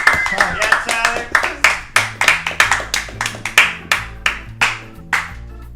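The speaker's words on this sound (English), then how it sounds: "Please give a loud round of applause for Tyler Eaton, everybody." Applause and claps greet comic Tyler Eaton at a live online open mic, a series of sharp, separate claps in a loose rhythm, a few people clapping close up while speech and music continue underneath.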